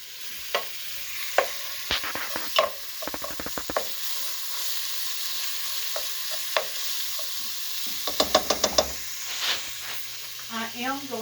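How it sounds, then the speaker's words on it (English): Beef frying in a pan is stirred with a utensil, giving soft sizzling under a series of sharp scraping and clinking strokes, some in quick bursts, fairly close and alone. "Going to give that a stir."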